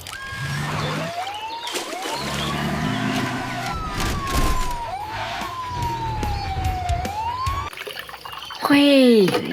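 A toy police car's siren wails in rising and falling sweeps over clattering handling noises, ending with a short burst of louder chirping tones.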